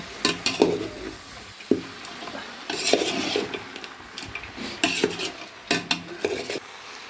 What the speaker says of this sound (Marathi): मिक्स करूया बघा मटण सगळं टाकले आपण